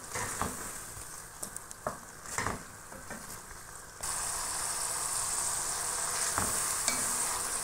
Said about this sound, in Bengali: এখন ভালো করে কষিয়ে নিব তেলের সাথে